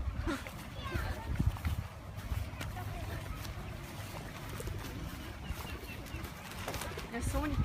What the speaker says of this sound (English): There's so many pigeons.